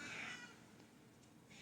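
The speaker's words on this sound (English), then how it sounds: "as she continues to meow at me" A domestic cat meows up close, one strong call at the start and a fainter one near the end, with no talking.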